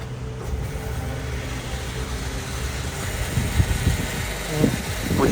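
Cabin of a Volkswagen Passat GTE plug-in hybrid pulling away on its electric motor, a steady low rumble and road hum with a few soft knocks toward the end and faint muffled voices.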